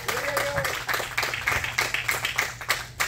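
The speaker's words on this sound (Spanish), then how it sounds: "Denle un aplauso al que vive." Applause from a congregation at a Pentecostal church service, uneven clapping in bursts with a brief voice or tone near the start, fairly close and moderate.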